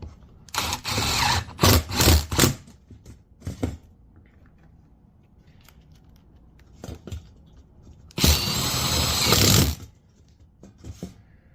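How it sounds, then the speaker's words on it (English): A power drill drives screws into sheet metal tabs while a reducer is fabricated in the field. Several short, loud whirring bursts come close up, then a longer run, with no talking. "just put a screw in each of your tabs here"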